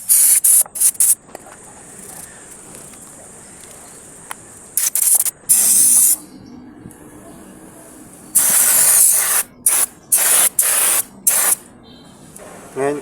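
Cleaning spray blasts onto a Honda RS125 FI motorcycle brake caliper in loud, close hissing bursts of varying length, separated by quiet gaps with faint background noise.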